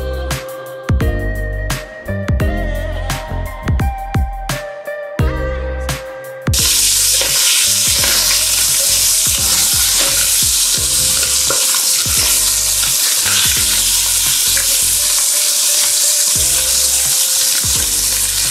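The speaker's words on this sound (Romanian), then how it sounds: "Primul lucru, prăjim carnea." Chicken pieces fry in a hot pan for Romanian ostropel. Clattering and stirring come first, then a loud, steady sizzle takes over and runs continuously up close until the end.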